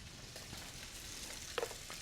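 Beef short ribs brown in a frying pan with a faint, steady sizzle and crackle, the quiet frying hiss continuing throughout with a small pop near the end.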